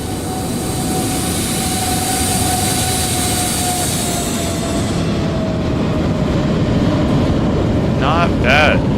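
A jet airliner on approach to San Francisco breaks off into a go-around, giving a steady loud broadband engine roar with a faint whine, while people talk nearby.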